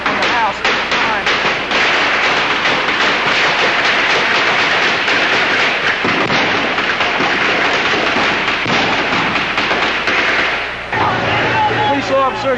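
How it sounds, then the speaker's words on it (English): Rapid bursts of gunfire crackle from a house in an archival news recording, dense popping shots repeating for several seconds before easing off near the end. "Gunfire from the house at the time."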